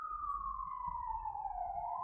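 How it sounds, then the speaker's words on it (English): A distant emergency vehicle siren wails in a long, slowly falling tone on an avenue, faint over a low rumble of city background. "I get very used to the sound of sirens"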